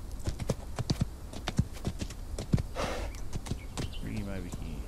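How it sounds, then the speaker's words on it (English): Horse hooves clip-clop steadily on an old-west trail, sharp and close, with someone talking over the steps and a brief rustle partway through. "My horse was sliding downhill there."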